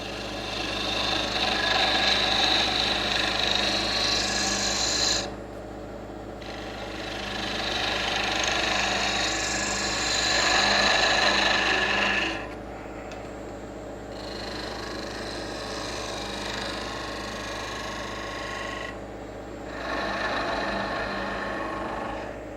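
A wood lathe spins an oil lamp blank, giving a steady motor hum beneath bursts of rough hissing as a tool cuts into the turning wood, with several distinct pauses between cuts, close and moderately loud.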